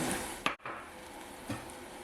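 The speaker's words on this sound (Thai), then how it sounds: "ก็ใส่น้ำไปนิดนึงนะคะเอาหมูไปรวนกับน้ำ" Pork stir-fried with a splash of water in a pan gives a soft, steady sizzle broken by a couple of quick scraping stirs.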